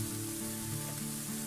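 Minced pork stir-fried with soy sauce and oyster sauce crackles in a hot wok, a soft, close, even sizzle under faint background hum, with no talking.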